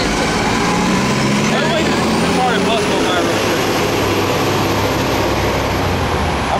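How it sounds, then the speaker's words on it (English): City buses passing loudly on a street, a continuous heavy engine roar and rumble with a rising high whine, filling the whole stretch with steady traffic noise under a preacher's voice. "These damn buses loud as hell."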